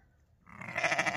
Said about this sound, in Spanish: Una oveja primeriza también.